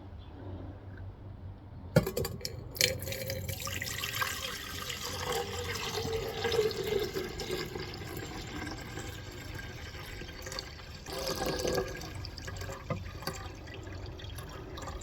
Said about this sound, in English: I'm going to pour this solution off into here